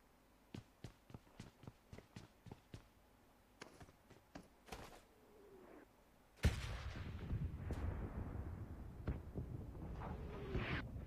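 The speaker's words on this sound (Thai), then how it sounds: "ระเบิดลงอีก" Bombs and gunfire in a shooting video game: a run of sharp separate bangs, then one loud blast followed by a dense, sustained roar of explosions and shots.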